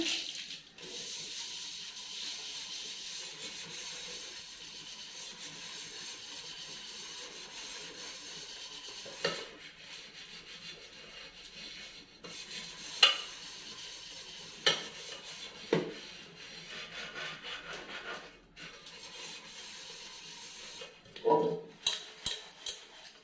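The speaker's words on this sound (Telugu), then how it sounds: "ఈ కడాయిలో కొంచెం లిక్విడ్ వేసి ఒకసారి స్క్రబ్బర్తో క్లీన్ చేసుకోవాలి." A scrubber works around a nonstick kadai with a little dish liquid, giving a soft, steady scouring hiss broken by a few louder scrapes and knocks against the pan, with no one speaking.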